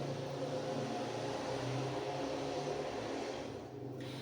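Motorcycle passing by outside: a continuous engine drone with a steady hum, dipping slightly near the end as it moves off.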